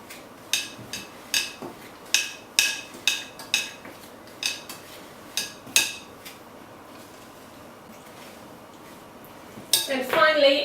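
Rout cake batter is mixed in a bowl, with roughly a dozen sharp spoon knocks against the bowl in a steady rhythm for the first six seconds, then softer scraping, and a brief voice at the end.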